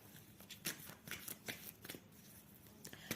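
A deck of tarot cards is shuffled close by in quick bursts of papery riffling and flicking, with short pauses between the bursts and no voices.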